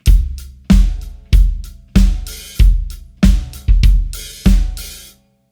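A drum kit plays a beginner rock groove across two bars, with kick and snare hits repeating in a steady pattern under ringing cymbals, loud and close with no voices.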